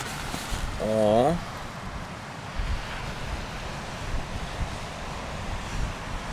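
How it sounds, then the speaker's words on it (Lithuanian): Strong morning wind near the sea in Auckland buffets the microphone with a continuous low roar and gusts, and a brief voice rises over it near the start. "Ryte užkilo vėjas."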